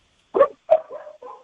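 Dogs barking in a few sharp, close barks over about a second, followed by a whining yip, clear and alone with no talk.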